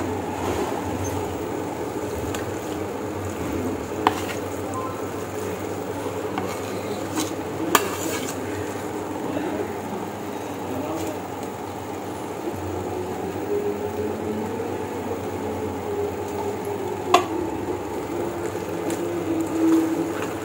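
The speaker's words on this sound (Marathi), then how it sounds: "छान असं मिक्स करणार आहे." Pav bhaji vegetables being stirred in a pan, giving a steady, continuous scraping and mushy churning with a few faint clinks, close by and with no talk.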